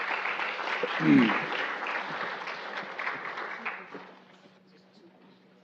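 An audience at a Pacific Islander health gathering applauds the presenters, a burst of clapping that fades out over several seconds, with a voice speaking briefly over it.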